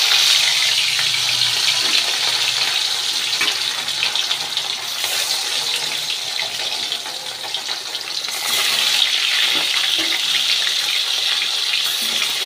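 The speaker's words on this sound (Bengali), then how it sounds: "কড়াইতে দিয়ে দেব সরিষার তেল পরিমাণ মতো, দিয়ে আমি মাছটাকে ভেজে নেব" Fish frying in hot mustard oil in a kadai, a steady, loud, hissing sizzle that fills the whole stretch without pause, swelling slightly toward the end, with no talking.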